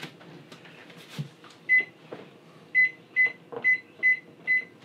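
An electronic timer, set in an RV kitchen, chirps one short beep, then five more evenly spaced beeps follow as it is set, clear and close over faint handling noise.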